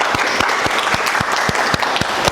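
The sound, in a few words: applause from an audience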